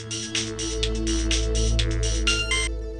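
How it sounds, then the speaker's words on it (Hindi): A phone ringtone plays in a home during a family scene, a repeating electronic melody of bright pulsing tones over a low steady hum, loud and continuous with no talk. "उठाइए, किसका फोन है?"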